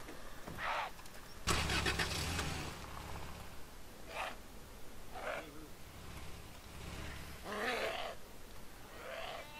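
A car engine in the video game DayZ cranks and starts abruptly, then idles at a low rumble, with a few short scraping sounds and no talking.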